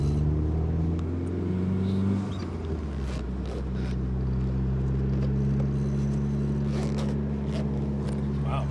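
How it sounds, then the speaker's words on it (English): A turbocharged 1990s DSM car cruises with a steady low engine drone, shifting pitch once near the start while faint turbo whooshes and chirps flutter above, heard from inside the cabin. "give the people what they want. All the cute turbo sounds."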